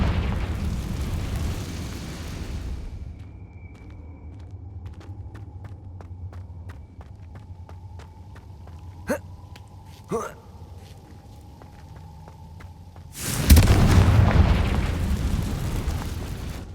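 A Confringo fire spell explodes in Hogwarts Legacy: a loud, rushing blast opens the clip, quieter game ambience with faint ticks follows, and then a second heavy burst erupts near the end.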